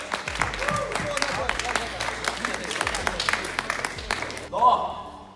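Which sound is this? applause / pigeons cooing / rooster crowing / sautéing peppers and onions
applause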